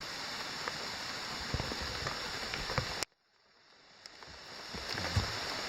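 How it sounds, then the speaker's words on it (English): Steady outdoor rain hisses near a wooded area, then cuts out abruptly and slowly returns as a softer patter with a few faint drips. "Get out of the rain."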